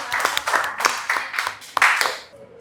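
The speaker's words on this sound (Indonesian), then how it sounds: "berikan tepuk tangan sekali lagi ya" Classroom applause for a student, a burst of many hands clapping together in a quick, dense patter that carries on for about two seconds before stopping, with a faint tail of room noise afterward.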